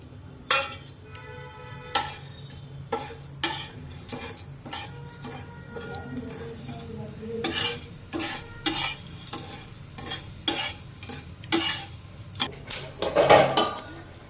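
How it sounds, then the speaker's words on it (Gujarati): Whole black peppercorns, cumin, cloves and cinnamon dry roasting in a pan, with intermittent clinks and scrapes of a spoon against metal as the spices are stirred over a quiet, steady background. "એમાં 2 ચમચ મરી લીધા છે, એટલું જીરું લીધું છે, એટલા લવિંગ, એટલા તજ લીધા છે, અને આપણે શેકી નાખીએ 2 મિનિટ"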